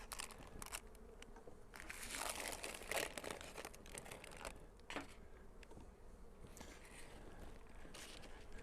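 Paper crinkling and rustling close by during beehive work in warm winter weather, irregular crackly bursts of crumpling over a quiet background, with a faint buzz of bees in places.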